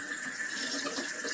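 Tap water runs steadily into a kitchen sink while dishes are rinsed off before going into a dish strainer, a continuous close splashing hiss with no voices.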